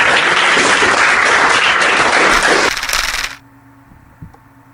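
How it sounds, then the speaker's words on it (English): Loud, dense applause from a live talk-show studio audience fills the first few seconds, then cuts off abruptly to near silence. "let's go a big round of applause"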